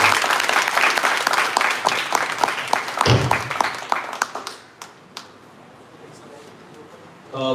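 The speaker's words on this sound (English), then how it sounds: "Let's have a big round of applause" Lecture-hall audience at an Indian English poetry talk breaks into clapping that thins out after a few seconds, leaving a quiet room with faint sounds and a soft bump at the end.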